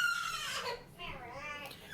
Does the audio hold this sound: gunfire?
no